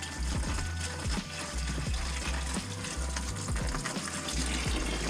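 Coolant gushes from a Mazdaspeed 3 engine during cylinder head removal, a loud, steady splashing pour close by with faint metallic knocks underneath.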